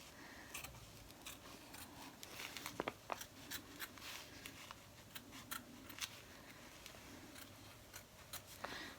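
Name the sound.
scissors cutting excess fabric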